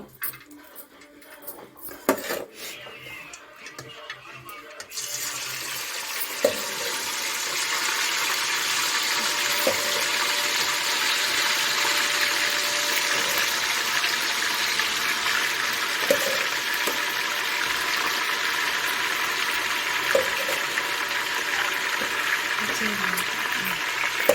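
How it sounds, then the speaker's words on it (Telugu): Chicken deep frying in oil over a medium gas flame gives a steady, loud sizzling hiss that starts after a few seconds of clatter, with faint clinks over the continuous bubbling. "మొత్తం వేసేసాను చికెన్ కొద్దిగా డీప్ ఫ్రై అయ్యేంత వరకు."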